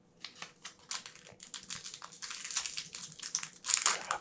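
Foil Magic The Gathering Modern Horizons 2 booster pack wrappers crinkle and crumple up close, a steady run of small rustling crackles with a few sharper crinkly bursts near the end, no talking.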